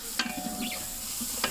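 Tomatoes and salt sizzle in hot oil for mutton biryani while a spoon scrapes and stirs them, with a couple of sharp clinks against the pan over a constant frying hiss and no talk.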